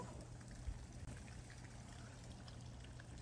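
Water poured over a Great Pyrenees puppy's thick fur during a de-skunking bath, a steady soft splashing trickle that runs continuously and fairly quietly, with no talk over it.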